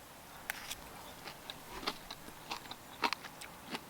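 Crunchy fried onions and chili peppers being eaten outdoors, with soft intermittent crunching bites scattered over a quiet background.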